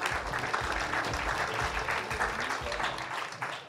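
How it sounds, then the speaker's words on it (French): An award-ceremony audience claps for a presenter coming up to hand over a jury prize, a dense, loud roomful of applause sustained evenly throughout, tapering slightly at the end. "Voilà, on peut l'applaudir."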